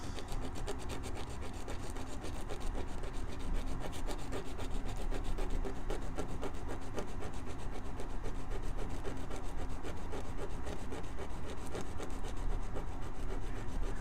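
Steady, continuous abrasive rubbing of hand sanding on wood, close up and fairly loud, with a rasping texture and no speech.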